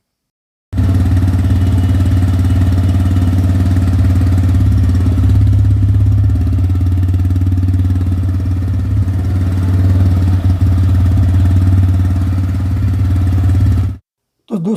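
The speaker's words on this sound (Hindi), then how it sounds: "तो आप इसकी एग्जॉस्ट साउंड का आनंद उठाओ" A TVS Raider motorcycle idles close by, its exhaust giving a loud, steady low thrum for about thirteen seconds before cutting off abruptly into silence.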